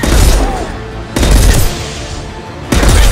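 Gunfire from the video game Mass Effect 2 arrives in loud, dense broadband bursts: one volley at the start, another around the middle, and a third near the end, each ringing into a sustained rumble.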